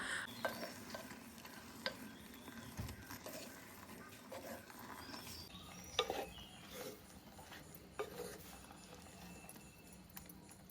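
Pineapple pachadi with curd is stirred in a pan, with soft irregular scraping and spoon knocks over a faint low sizzle, fairly quiet and close.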